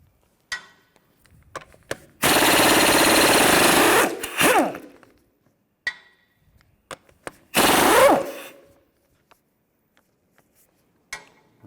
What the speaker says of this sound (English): 17mm socket. Take these lug bolts out.